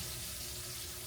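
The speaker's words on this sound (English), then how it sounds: "Then we're going to pour a little water." Water poured into taco seasoning in a pan, a steady rushing flow that runs continuously for a moment, heard up close.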